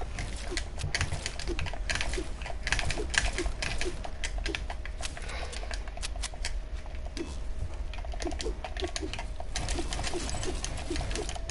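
Typing on a computer keyboard, rapid irregular clicks of keys close by over a steady background hum.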